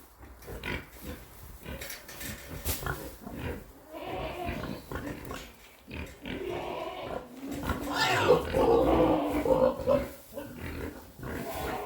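Pigs grunting and snuffling inside a barn on a farm in early winter, a steady jumble of grunts and squeals at moderate distance with some louder calls toward the end.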